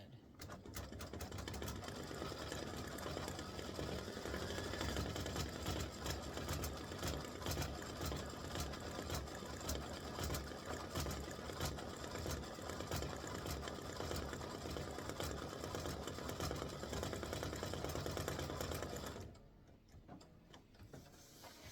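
An embroidery sewing machine threaded with black thread and a black bobbin stitches the eyes of a turkey applique block, running a fast, even ticking stitch rhythm for nearly twenty seconds before stopping.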